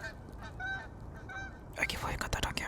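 A goose-like bird honks outdoors in a few short, nasal calls early on, followed by louder, rougher bursts of noise and scraping toward the end.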